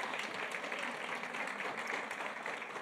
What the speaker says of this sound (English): Let's give Conita a big round of applause